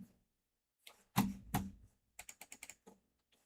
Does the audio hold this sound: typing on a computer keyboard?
yes